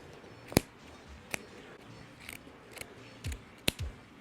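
Scissors snipping out the center of a succulent wreath form, a few sharp, separate cutting clicks spaced irregularly over quiet background.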